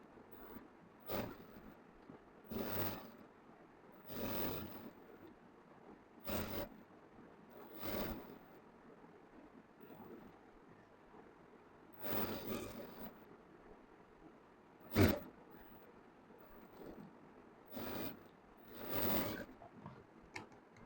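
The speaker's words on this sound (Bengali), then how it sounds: "এখন চাপ সেলাই দিচ্ছি।" A sewing machine top-stitches a garment neckline, running in short repeated bursts separated by brief pauses, fairly quiet and close, with no voices.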